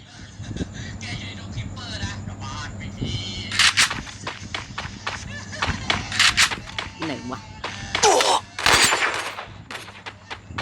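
Gunfire in a shooter video game, with SVD sniper rifles mentioned, comes as scattered sharp shots and short bursts over a low background hum, while someone talks throughout.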